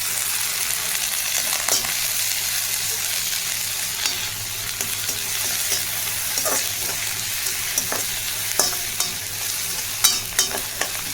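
Ginger garlic paste with curry leaves fries in a pan, a steady loud sizzle broken by scattered scraping clicks of stirring and no voices.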